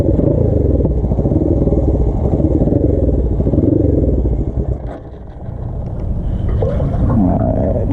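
A Suzuki GS450 scrambler motorcycle engine runs with the choke partly on, a loud, close, uneven idle that sags briefly in the middle before picking back up, with no talk.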